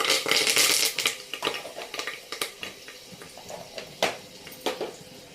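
Curry leaves drop into hot oil for tempering, starting with a loud burst of spattering crackle and then scattered sharp pops and crackles that thin out over several seconds.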